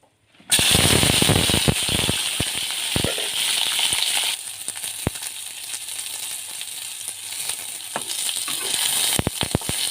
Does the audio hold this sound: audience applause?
no